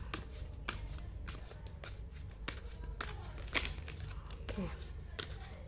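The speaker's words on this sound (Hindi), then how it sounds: "तो आपको अगर कार्ड शफलिंग पसंद नहीं है देखना" Tarot cards shuffled by hand, giving a run of quick papery riffles and slaps in irregular bursts, close and fairly soft over a low steady background hum.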